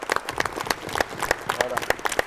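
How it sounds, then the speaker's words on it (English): Audience applause at a live Q&A session at Sweden Skills Camp, with scattered, uneven claps from a modest crowd, close and moderately loud, while a voice talks over them. "Can we get another round of applause, please?"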